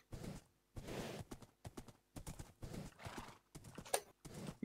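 A horse's hooves clip-clop in a Minecraft game, with a whinny breaking in, in close, fairly quiet bursts separated by brief pauses.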